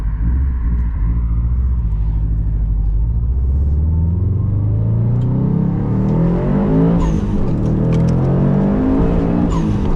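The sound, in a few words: Subaru WRX STI car driving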